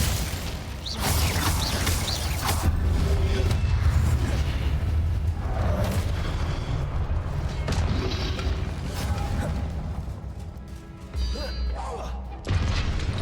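Spells cast in Hogwarts Legacy during combat, a steady wash of magical whooshes, crashes and booming impacts, with a voice speaking over the continuous effects.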